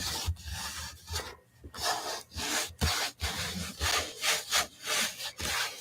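Paper being rubbed by hand over a painted gelli plate to lift a print, close rhythmic scrubbing strokes in repeated bursts with short pauses, no talking.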